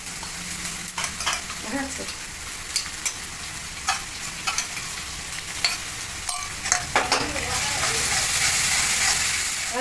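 Garlic paste fries in a pan for chicken biryani, a steady sizzle running under repeated scraping and clacking strokes of a spoon stirring it, close by, with no talk.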